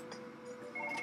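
A phone rings in Surgeon Simulator with a faint, short electronic ringtone that chirps in quick repeated beeps over a low room hum, with no talking.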